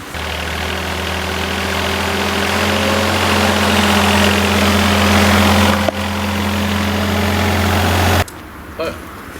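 A Hako Citymaster 600 street sweeper's engine runs loud and steady with a strong low drone and vibration as it drives, then cuts off abruptly near the end, leaving a quiet background and a brief knock.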